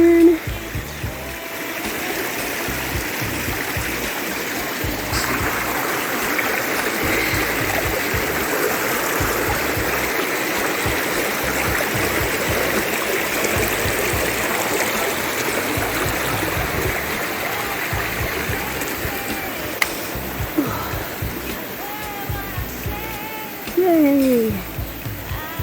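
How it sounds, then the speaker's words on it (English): A stream of flowing water on a walking trail at Te Puna Quarry Park in Tauranga, New Zealand, rushing and trickling steadily nearby, with people talking over it and a brief louder splash near the end. "Did it say we have to go over a stream?"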